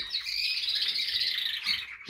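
Caged birds calling at close range, a dense stream of high chirps and squawks from several birds that runs continuously without pause.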